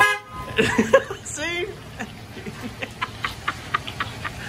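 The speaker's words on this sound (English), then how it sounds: "honking horn on the truck" Truck horn honking on a farm, a couple of short toots near the start, followed by a run of regular short clicks or taps, with someone speaking briefly over it.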